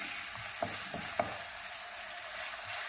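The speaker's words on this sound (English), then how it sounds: "Oil is nice and hot. I'm going to add the onions" Onions added to hot oil in a pan for pasta sauce, frying with a steady soft sizzle and a few light stirring clicks, close and fairly quiet with no talk.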